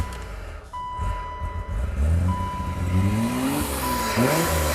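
A running BMW engine revving while water is poured into it to clean the pistons, rising and falling revs near and loud, with a steady beeping tone over the engine.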